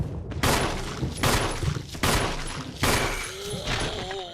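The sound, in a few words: gunfire using up ammo in the video game Resident Evil Remastered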